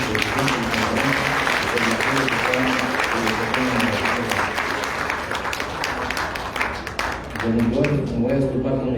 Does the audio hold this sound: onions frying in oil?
no